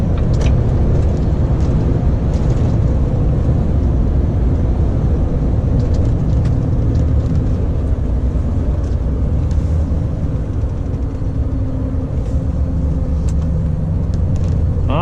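A lorry drives along the A30 road, its engine a loud, continuous low drone with steady road roar and rumble heard from inside the cab throughout.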